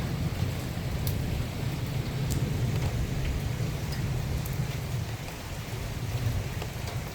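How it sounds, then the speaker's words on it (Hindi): Steady rain pours down continuously in Dehradun, with a low rumbling undertone and occasional sharper drips tapping nearby. "अगर गर्मी ज़्यादा होती है तो यहाँ बारिश हो जाती है।"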